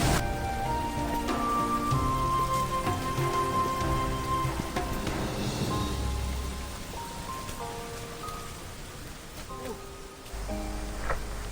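Monsoon rain falls steadily along the trek path to Harihar fort, a continuous patter on surfaces with sustained tonal sounds layered underneath and no clear talk.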